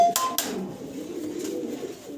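Low, soft cooing of fancy pigeons, including German Beauty Homers, close by, a steady murmuring hum after a couple of brief sharp knocks at the start.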